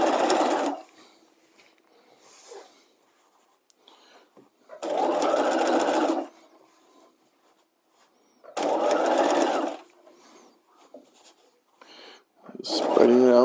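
A sewing machine stitching the seam around a garment's armhole facing, running in four distinct loud bursts of steady whirring, each a second or so long, separated by quiet pauses with faint handling noise.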